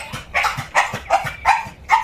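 A dog gives about five short, rhythmic barks, each trailing into a whiny, whimpering tone. The barks come at a steady pace, close and fairly loud, with no talking.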